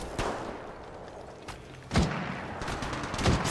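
Gunfire in the mobile shooter Apex Legends Mobile, a few sharp cracks and a heavier burst of shots spaced irregularly against a low battlefield ambience, moderately distant and fairly quiet.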